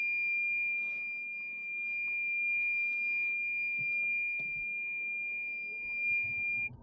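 A car's parking sensor, set off by grass, holds a steady high-pitched electronic beep tone continuously for several seconds, with faint engine rumble and soft background noise beneath it.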